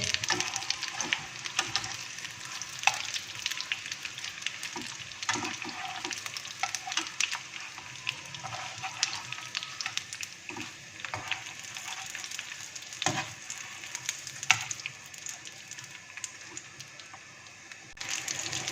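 Chicken and potato cutlets sizzling in hot oil in a pan, a steady crackling fry with occasional sharper pops and spatters throughout, close and fairly loud.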